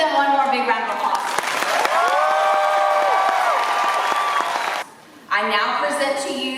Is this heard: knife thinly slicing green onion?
no